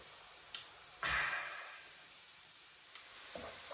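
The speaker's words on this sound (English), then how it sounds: "This has been sizzling now for about 4 minutes" Banana skins, raisins and cranberries sizzle quietly in a frying pan as pancake filling, with a steady soft hiss, a brief louder burst of crackling and a few light scraping knocks from being stirred around.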